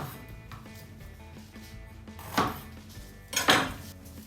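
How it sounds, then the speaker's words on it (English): A knife trimming the tops off banana peppers on a board, quiet close-up with a soft clatter of utensils and two sharper cutting clacks. "So let's cut our banana peppers."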